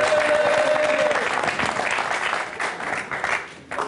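Applause erupts from a studio audience on an Algerian television show, a steady wash of clapping with a brief tonal note early on, gradually easing but still going as it ends.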